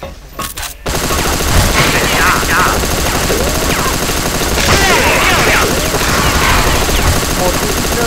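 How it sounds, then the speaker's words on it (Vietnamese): Rapid automatic gunfire and blasts in the shooter game CrossFire, a dense continuous loud barrage with bursts and booms after a brief quiet start, while a voice talks over the action. "bắn nó nổ bùm hết."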